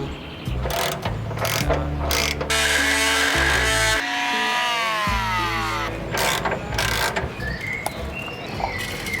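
Ratchet wrench clicking while bolts are loosened on a camper van's front crossmember, with rapid pawl ratcheting in bursts, a short whirring spin, close and fairly loud, and no talk.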